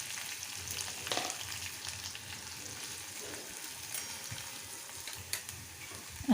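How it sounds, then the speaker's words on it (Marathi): Onion, garlic and curry leaves sauté in oil for a potato bhaji. A soft, steady sizzle hisses close by, with a few faint stirring scrapes. "कांदा लसूण चांगला परतून घ्यायचा थोडा लालसर होईपर्यंत"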